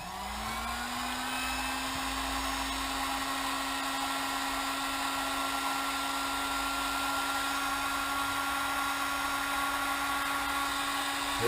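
A Wickes heat gun on its lowest setting starts up and rises quickly to a steady, loud blowing whine with a constant motor hum. It holds unchanged at close range for about eleven seconds.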